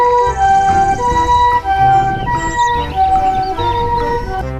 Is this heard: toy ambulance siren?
yes